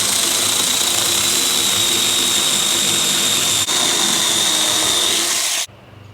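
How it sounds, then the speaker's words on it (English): Battery-powered mini chainsaw cutting through dry oak, a steady loud high-pitched whine with gritty chain rasp running continuously for about five and a half seconds, with a brief dip midway, then cutting off abruptly into quiet. "I made 18 cuts in dry oak here."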